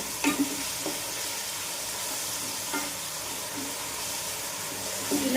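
Onions frying in a pan for chicken biryani, with a steady close sizzle and soft stirring scrapes running throughout, no talking.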